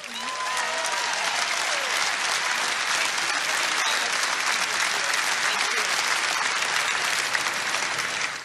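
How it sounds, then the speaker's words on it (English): A large rally crowd in Cedar Rapids, Iowa, applauds continuously, a dense, loud, even wash of clapping that holds for the whole stretch, with a few cheers and a voice faintly underneath. "Keep your applause going for the Honorable Pat Grassley, State Representative."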